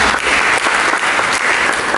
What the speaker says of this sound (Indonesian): Sekali lagi mari berikan tepuk tangan bagi Yesus.